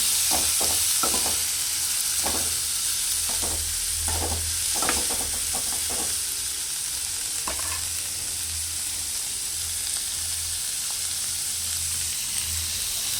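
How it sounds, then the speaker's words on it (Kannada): Chopped onions frying in oil for tomato rice, steady sizzle with a spoon repeatedly scraping and stirring the pan in short clustered bursts early on, then a continuous frying hiss alone. "ಆಮೇಲೆ ಈರುಳ್ಳಿ ಚೂರು ಕೆಂಪು ಆಗೋ ತನಕ ಹಾಗೆ ಹುರಿಬೇಕು"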